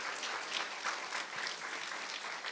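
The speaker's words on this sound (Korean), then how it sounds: "하나님께 영광의 박수 한번 올리겠습니다" A church gathering at a summer retreat lecture gives a round of applause, steady many-handed clapping that fills the room for a few seconds without letting up, with no talking over it.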